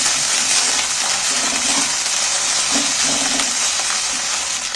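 Ginger-garlic paste and onions fry in hot oil in a pan for a steamed egg dish, giving a steady, bright sizzle that holds evenly throughout, with faint stirring clinks.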